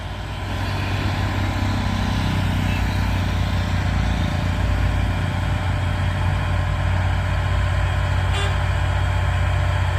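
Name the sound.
convoy of trailer trucks passing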